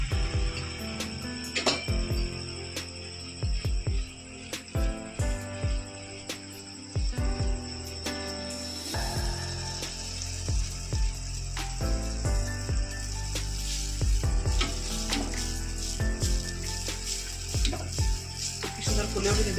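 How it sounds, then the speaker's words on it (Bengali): Palm pitha batter sizzles in hot oil in a wok, a steady frying hiss that swells louder and denser partway through, broken by clicking and tapping from utensils against the pan. "তেল গরম হয়ে গেছে, কানায় খাতা করে নিয়ে কড়াইয়ের মাঝখানটাতে এইভাবে ঢেলে দিতে হবে।"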